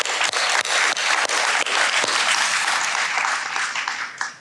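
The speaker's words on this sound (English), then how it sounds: "Maybe we'll have a round of applause for them." A research, industry and education panel audience claps in a dense, sustained burst, with a few louder individual claps standing out, before the applause starts to fade right at the end.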